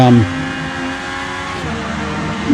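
Touring race car engine in the Rennsport racing game, a loud sustained drone with steady harmonic whine as the car holds throttle, dipping briefly then rising again near the end.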